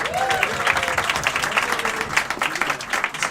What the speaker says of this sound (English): let's give Steve Marchand another round of applause